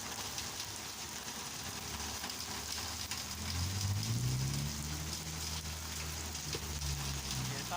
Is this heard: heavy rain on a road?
yes